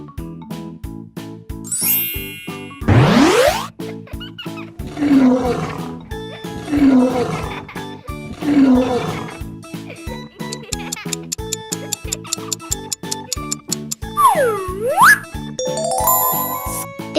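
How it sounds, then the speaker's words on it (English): Lion roars in an animal sound guessing game, several deep rumbling roars in a row rising over tinkling chimes and a looping musical backing, with a rising whoosh effect before them and a falling swoop near the end. "It's a lion."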